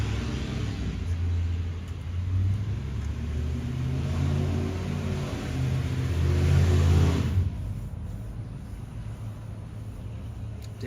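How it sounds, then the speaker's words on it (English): A loud car exhaust revving on a street in Venice, Los Angeles, a deep rumbling engine swelling and holding for several seconds before cutting back to a lower idle, heard nearby with no talk over it. "that guy's exhaust is so loud"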